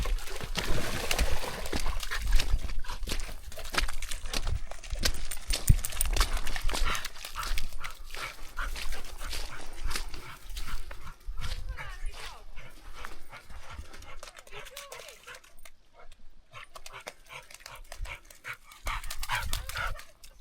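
A muddy spaniel moves about outdoors on a fell walk, with dog whimpers, panting and splashing water amid wind noise, while people talk intermittently nearby.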